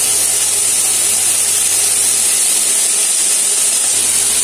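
Chopped cabbage and potatoes fry in a pan with turmeric, giving a loud, dense, unbroken hiss close by.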